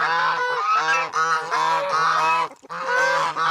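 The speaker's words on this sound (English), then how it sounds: "these stupid things will not shut up" Farm geese honking loudly and repeatedly, a chorus of nasal overlapping calls in quick bursts with a brief pause before resuming, close by.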